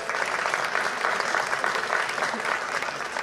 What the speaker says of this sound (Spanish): Fíjense, un aplauso, por favor.